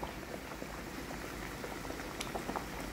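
Chicken pieces go into a pan of simmering creamy gravy, bringing a steady close bubbling and sputtering with small pops and spatters throughout and no talking.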